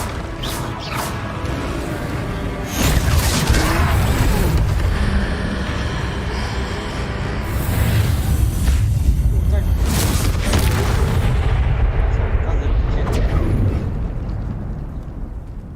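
Confringo spell explosions in the Hogwarts video game land as repeated loud booming blasts and rumbling bursts amid battle noise and combat effects.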